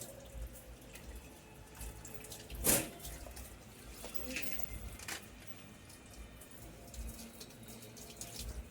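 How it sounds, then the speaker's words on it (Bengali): Hilsa fish pieces are rinsed under a running kitchen tap, giving a faint, continuous water flow with a brief louder splash partway through. "দেখুন, মাছ কেটে আমি ধুয়ে পরিষ্কার করে নিয়েছি।"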